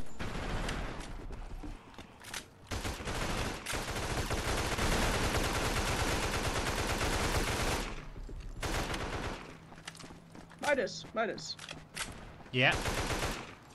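Sustained bursts of rapid automatic gunfire from the zombie shooter game Mega Zombie fill most of the stretch, loud and continuous, then give way to sparser shots and clicks while players talk.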